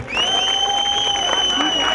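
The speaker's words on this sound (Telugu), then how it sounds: "గట్టిగా ఒకసారి క్లాప్స్ కొట్టి" Audience applause at a college annual day celebration, a brief, steady wash of clapping from a large crowd, with a sustained tone from the sound system over it.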